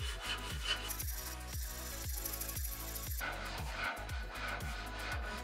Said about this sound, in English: finish it up with the sanding board